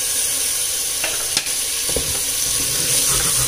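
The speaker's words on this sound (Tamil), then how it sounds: "ஒரு 2 நிமிஷத்துக்கு நல்ல மசாலாலாம் சனாவில் பிடிக்கிற மாதிரி வதக்கி விட்டுக்கலாம்" Chickpeas and strips of paneer sautéed with masala in a pan, frying and sizzling steadily up close while a spoon stirs with a few scraping clinks throughout.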